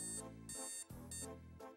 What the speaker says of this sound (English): That would be the sound of your alarm going off.